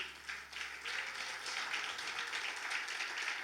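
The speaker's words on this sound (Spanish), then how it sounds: "Dar un aplauso al Rey" A church congregation applauding during a sermon, a dense, steady wash of many hands clapping at a moderate distance, sustained without a break for several seconds.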